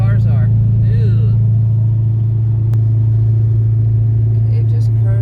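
Steady low drone of a 2003 Honda Civic cruising and coasting on the road, constant engine and road rumble heard from inside the car, with faint speech at the beginning and end.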